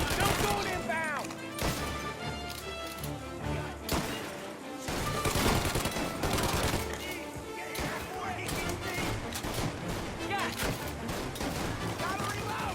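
Shootout in Mafia: Definitive Edition: repeated loud gunshots and heavy impacts crash through a busy mix of game music, effects and character voices shouting over the fight.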